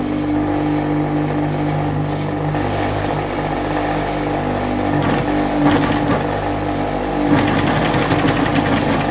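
A sewing machine double-stitches leather face masks with a steady, close mechanical drone and hum, shifting slightly in tone partway through as the stitching continues.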